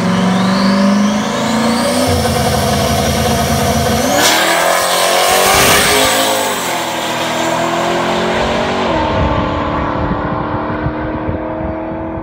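A 1000-horsepower turbocharged Trans Am launching hard at the drag strip, its engine roaring loud and close with revving and tire squeal, then rising through the gears as it pulls away.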